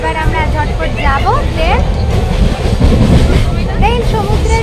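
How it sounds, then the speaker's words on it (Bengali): A passenger train bound for Digha rushes along at full speed, its steady low rumble and rattle filling the carriage beneath near, continuous conversation. "দুর্বার গতিতে ট্রেন ছুটে চলেছে"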